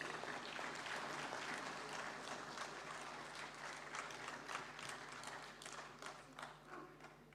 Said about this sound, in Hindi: शुरुआत करते हैं और जोरदार तालियों के साथ अभिनंदन।